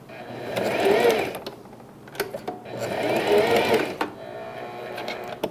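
A sewing machine stitches a pet bandana in two short bursts of quick, whirring needle action, each lasting about a second and a half, with quiet handling clicks and pauses between them.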